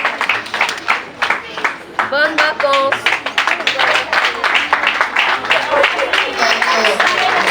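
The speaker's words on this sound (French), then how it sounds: "Applaudissez." Hand clapping from a group at a school gathering, with irregular claps running under continuous talking and voices throughout.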